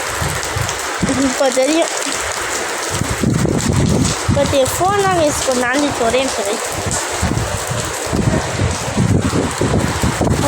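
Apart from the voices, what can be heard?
rain falling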